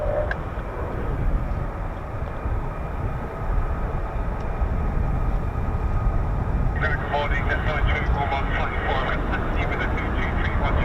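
A flight of four F-35B stealth jets passes over RAF Marham, a broad, steady roar that fills the whole stretch and swells slightly toward the end. A voice is faintly present under the noise.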